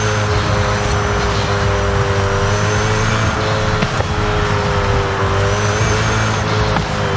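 Koenigsegg Jesko hypercar driven at high speed in Forza Horizon 5, a loud, steady engine drone at high revs with faint tire noise, holding constant without gear changes and with no voices.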